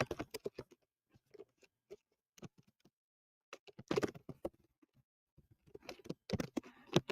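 Keystrokes on a computer keyboard arrive as scattered quiet clicks and short bursts, with a denser flurry of typing near the end.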